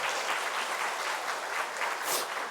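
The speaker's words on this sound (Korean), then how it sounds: "우리 큰 박수로 함께 축복하겠습니다" A church congregation at a Sunday service applauds to bless its organ accompanist, a broad, even wash of many hands clapping that stays full and steady from start to finish.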